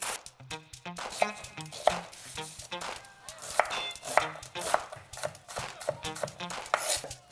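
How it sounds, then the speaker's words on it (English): A knife chops an onion on a board, cutting it up for shakshuka, in a steady run of crisp taps that sometimes comes in quick bursts, close and clear with no talk. "So we're going to start first of all with chopping our onion."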